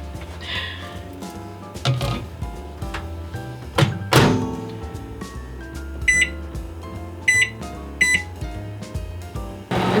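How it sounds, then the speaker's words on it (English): A powerful microwave oven runs with a low hum, broken by several thunks and knocks, then three short bright beeps near the end, all fairly faint and without voices. "And then we're gonna put this in the microwave."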